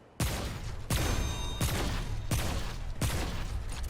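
Heavy gunfire in the video game Remnant 2, played on Apocalypse difficulty: five loud, booming shots spaced roughly every 0.7 seconds, each with a long rumbling tail, with no speech.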